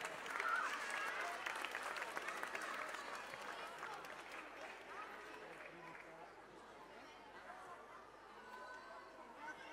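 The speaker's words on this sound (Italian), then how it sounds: "un applauso per tutti." Sustained audience applause fills an ice skating gala hall, dense clapping mixed with crowd murmur and chatter, strongest at first and easing slightly while continuing throughout.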